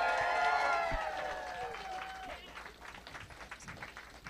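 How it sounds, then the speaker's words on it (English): A live show audience gives a round of applause, with broadband clapping building after an opening stretch of voices or tones and continuing steadily at moderate loudness. "Round of applause for Neil."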